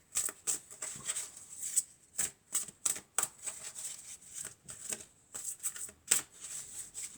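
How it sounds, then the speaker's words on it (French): A deck of tarot cards is shuffled and cut by hand, giving quick, crisp riffling bursts in an uneven rhythm, close and fairly soft with short pauses between them. "Alors, je vais couper et puis je vais prendre une carte."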